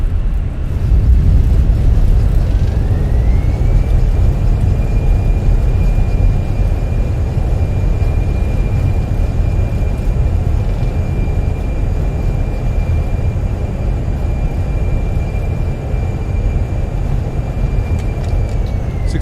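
Roaring thrust reversers on a Fenix A320 during landing rollout in Microsoft Flight Simulator, a loud steady rush with a rising whine that levels off and holds, then gradually eases.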